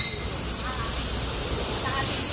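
A spray of cleaner hisses steadily against a Honda Civic 2.0 during a wash. The continuous, close, breathy spray lasts the whole moment without a break.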